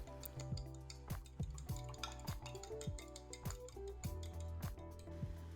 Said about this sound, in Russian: снова всю эту массу хорошенечко перемешиваю вилкой, чтобы хорошо разболтать яйцо